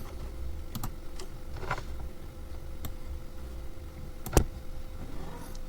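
Keystrokes on a computer keyboard during data analysis work: a few scattered, sharp clicks spread across several seconds, one louder tap near the end, set against a low steady background hum with no talking.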